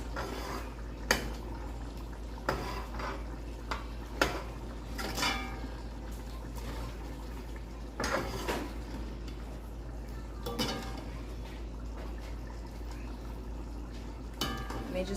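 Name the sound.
mixing Trinidad curry chicken and potato in a pot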